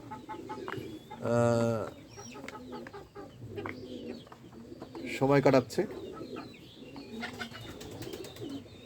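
Chickens, ducks and pigeons kept together call out in a mixed chorus, with two louder, drawn-out calls standing out over softer clucks and coos while a person talks nearby.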